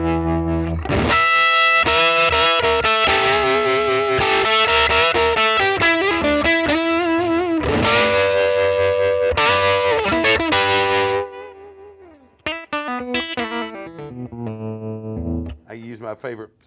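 Electric guitar through a Goodsell Unibox amp with tremolo and heavy distortion, loud pulsing chords and riffs sustained for about eleven seconds, then quieter picked notes and short phrases trailing off.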